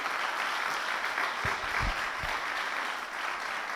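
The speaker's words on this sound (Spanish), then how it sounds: "Dale un fuerte aplauso al Señor." A church congregation applauds in a steady, even wash of clapping that is fairly loud throughout, with a few low thumps in the middle.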